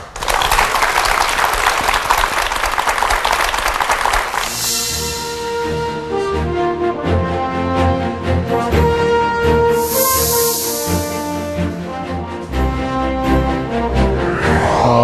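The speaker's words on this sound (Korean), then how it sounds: "힘찬 박수로 강연 청해 듣겠습니다" A lecture audience gives a hearty round of applause, loud and dense for about four seconds before music takes over and continues to the end.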